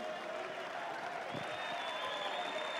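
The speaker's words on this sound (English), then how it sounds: "So please give him another round of applause" A tennis crowd at an ATP Tour event in Dubai applauds to mark a player's 700th career win, a steady wash of clapping heard from a distance.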